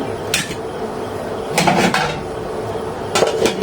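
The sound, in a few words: pot being covered with a lid while making chalta pickle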